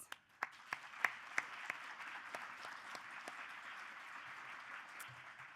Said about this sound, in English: Join me in giving them another round of applause, please.